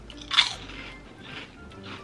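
One crisp, close bite into Bugles cone-shaped corn chips from a 7-Eleven in Japan gives a loud crunch, followed by softer chewing crunches.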